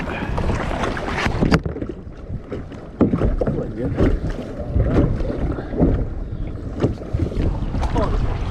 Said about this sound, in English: you guys kayak right past the back of their boat